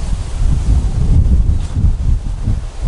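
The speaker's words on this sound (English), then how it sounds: "It is so windy out here." Wind gusts buffet the microphone in low, rumbling bursts, steady and close, with no voices.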